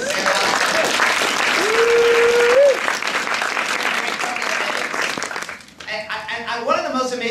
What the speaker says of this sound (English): let's give a big round of applause to Scott and Wendy and Claire